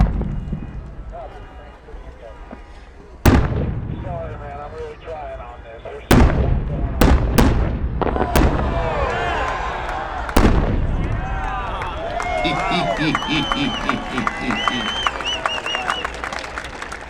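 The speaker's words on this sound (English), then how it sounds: "It's a 10-inch, 4 heavy timed reports to a ring of red inserts" A 10-inch multi-break firework shell with four heavy timed reports and a ring of red inserts, booming in a series of sharp, loud blasts with gaps between them, followed by crackling and the chatter of a crowd nearby.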